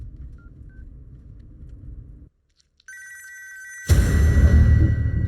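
Someone dials a borrowed phone: a low rumble cuts out, a few faint keypad tones sound, then a steady ringing tone over a loud hiss begins and continues.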